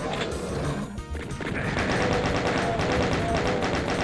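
Chaingunner enemies in the video game Doom fire chainguns in a sustained, rapid rattle of gunfire that carries on loudly through nearly the whole stretch after a brief opening burst.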